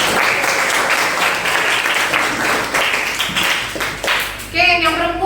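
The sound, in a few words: class applause for Arya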